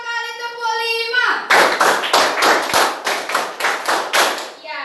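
A classroom full of students claps in a rhythmic clap game, sharp group claps in a steady pattern after a teacher's spoken count.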